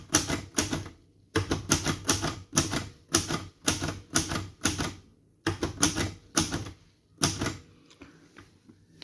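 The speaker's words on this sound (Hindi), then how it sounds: "अब मैं बड़े स्पेल पे टाइप करता हूँ।" Keys strike on an Imperial Gemini typewriter in quick close bursts of clacks, separated by short pauses, with crisp mechanical snaps and no talking.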